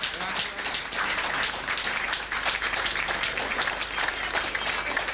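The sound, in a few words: audience applause welcoming first-time attendees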